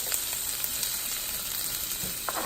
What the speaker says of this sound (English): I'm just going to drop the onions in.